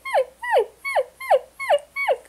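A human voice imitates a sad puppy whining, six rising-then-falling whimpers in steady rhythm, close and clear with no other sound.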